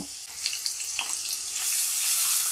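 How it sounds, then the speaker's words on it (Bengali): Chopped onions and slit green chilies fry in hot oil in a pan, a bright hissing sizzle with a few crackles that grows steadily louder and denser. "এখন এগুলাকে একটু হালকা ভেজে নিতে হবে"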